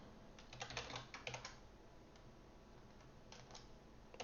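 Computer keyboard typing in short bursts of quick, light clicks separated by pauses, close and fairly quiet, with no one talking.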